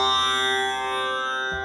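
Sitar drone from the sympathetic strings rings as a sustained shimmering tone, steady and slowly fading, close with no other sound.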